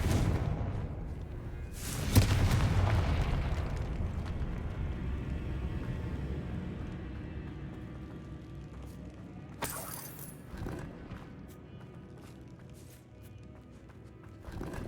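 Casting Confringo, the fire spell in Hogwarts Legacy, sets off a sudden explosive burst that decays over a few seconds, followed later by a second sharp crack, amid quiet game ambience.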